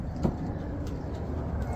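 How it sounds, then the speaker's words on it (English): Pigeons and doves on a rooftop, giving faint, low cooing amid a steady background hum, with one brief louder sound near the start. "There's pigeons walking on the roof,"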